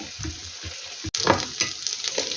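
Peppers sizzle steadily in a hot pan while a utensil stirs and scrapes through them, close and continuous.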